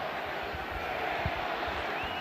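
A BYU football stadium crowd at a college game against Arizona State makes a steady, broad roar that runs through the whole stretch, with no clear voice on top.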